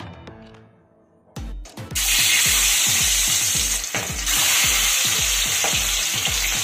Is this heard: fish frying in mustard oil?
yes